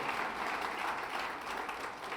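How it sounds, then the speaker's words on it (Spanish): A church congregation applauding during a Spanish-language service, a brief, steady wash of many hands clapping at moderate loudness without a clear start or end. "Denle un aplauso al que mora en ustedes"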